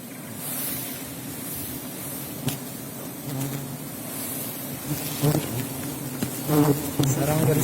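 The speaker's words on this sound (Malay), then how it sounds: "Ini lebah." A swarm of honeybees drones during a honey harvest in Aceh, a dense close buzzing that rises and falls, with a few brief voices and handling noises toward the end.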